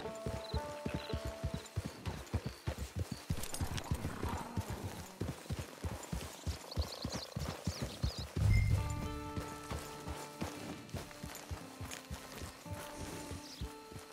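Horse hooves clip-clop in a steady walking rhythm in Red Dead Redemption 2 Online, close and clear, with a thud partway through and soft background music.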